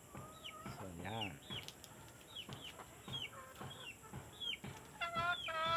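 Several black chickens cluck and squawk nearby in an irregular, steady chatter, with a faint outdoor hiss underneath.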